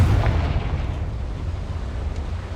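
A Confringo fire spell explodes in Hogwarts Legacy, a loud, sustained low rumbling blast that stays heavy and dense for the whole moment without any voices.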